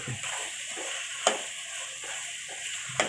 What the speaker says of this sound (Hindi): तो अब इसको मिक्स कर लेंगे।